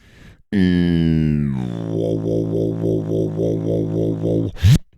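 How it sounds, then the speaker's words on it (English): A deep synthesized bass tone that starts gliding, then settles into a steady pulsing line with rhythmic swells, played alone and loud, ending with a short burst. "Some of the bass lines that I have sound like this."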